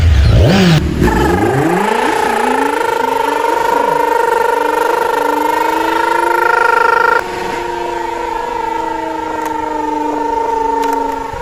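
A motorcycle engine starts and revs up, its pitch climbing quickly before settling into a loud, steady, close-up whine that holds for several seconds.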